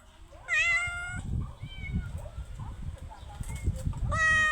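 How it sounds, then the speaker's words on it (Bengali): A cat meows insistently while fish is being cut, with several clear close calls at the start, middle and end over faint background clatter. "মিউ মিউ করে ডাকতে থাকে"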